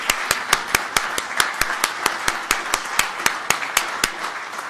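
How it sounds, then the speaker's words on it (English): Rhythmic unison clapping at a city council meeting: about twenty crisp, evenly spaced claps from a group, close and steady, with little talk. "Can we clap?"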